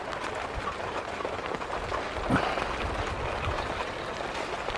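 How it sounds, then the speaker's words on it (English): Rain patters steadily at a seaside campsite during stormy weather, a faint, even wash of drops on surfaces with a brief louder splash midway and no talk. "Raining again."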